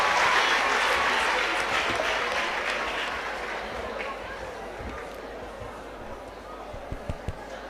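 Audience applause fills the hall at the finale of the Seplat Energy Pearls Quiz competition, starting loud and dense and easing slightly, with crowd murmur and a few sharp claps near the end.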